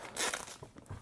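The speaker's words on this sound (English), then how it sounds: "Take my blade and we'll just have a quick look. Let's see, let's make an incision right here." A blade slices into the plastic wrap on a Xiaomi Mi 9 phone box, giving a short, close, crisp zipping scratch about a second long, followed by faint rustles.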